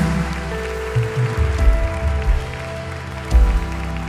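A church congregation claps during a service, a broad crackling wash of applause that swells in bursts over sustained worship music.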